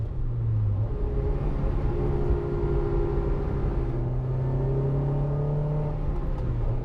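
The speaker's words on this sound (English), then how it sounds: "For those of you wondering what kind of exhaust I have, it's kind of droney a bit" A Honda S2000 (AP1) with an aftermarket exhaust drones and revs steadily, a low throaty rumble rising and falling in pitch without any speech.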